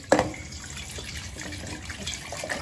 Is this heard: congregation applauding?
no